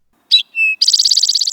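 Wild birds at a central Kentucky wildlife refuge give a sharp chirp, then a clear pure whistle, then a fast rapid trill, all close and loud against silence.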